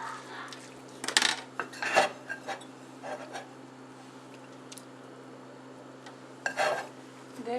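Cut-up block cheese being stirred in a bowl for homemade macaroni and cheese, soft scraping and clinking of a utensil against the dish in a few short bursts over a steady low hum.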